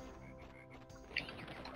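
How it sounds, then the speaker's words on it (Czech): A single short croak from a frog in the video game Crash Bandicoot: Warped, heard faintly over a steady background game tune. "Co je to za žábu, nějaká zhulená zelená?"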